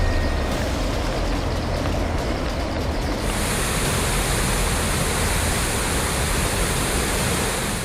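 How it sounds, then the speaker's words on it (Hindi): Steady, loud roar of the flooded Rispana River in Dehradun rushing at full spate during monsoon rains, a dense continuous wash of water noise filling the whole stretch with no voices. "देहरादून में रिस्पाना नदी पूरे उफान पर बह रही है।"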